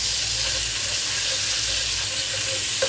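Margarine melting in a pan as it is stirred, a steady soft sizzle with a broad hissing wash and low hum, continuous and close with no voices.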